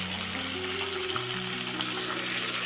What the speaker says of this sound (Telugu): వేసి వీటిని వేయించుకోవాలి. ఇవి బాగా ఫ్రై అయిన దాకా ఉంచుకోవాలండి.